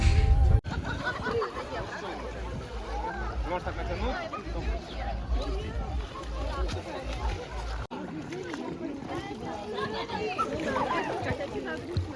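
Water splashing as people and children swim in the Inhulets river, a continuous outdoor wash of splashes and movement with children's chatter and voices throughout, fairly close.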